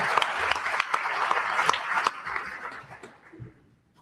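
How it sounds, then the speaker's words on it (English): Audience applause for the moderator at a commercial real estate forum, a dense wash of many hands clapping that holds steady, then thins out and fades away over the last second. "Please give him a big round of applause as we turn it over to him to ask the questions."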